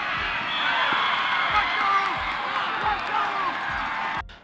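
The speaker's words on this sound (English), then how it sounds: "even though there's a lot of crowd noise around me, because I'm on the field" A stadium crowd at a football game cheers and roars steadily in a broad wash of noise, with occasional short whoops and knocks on top, before the sound drops off abruptly at the end.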